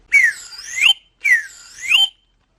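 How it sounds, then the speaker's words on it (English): Two swooping notes from a small slide whistle, each gliding down then rising again, close and clear with short silences between and after them. "A small slide whistle."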